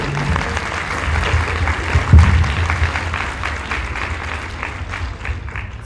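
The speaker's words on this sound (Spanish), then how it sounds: "Primero, un aplauso para América, por favor" A room full of people at a symposium claps steadily, a warm, sustained round of applause that fades slightly toward the end.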